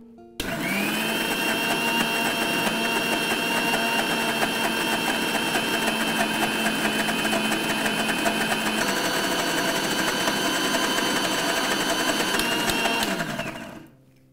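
A kitchen blender runs steadily for about thirteen seconds, whirring loud and close as it blends an eggless oats pancake batter, its motor pitch shifting slightly midway before spinning down at the end.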